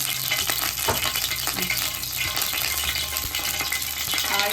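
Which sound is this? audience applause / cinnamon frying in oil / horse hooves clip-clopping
cinnamon frying in oil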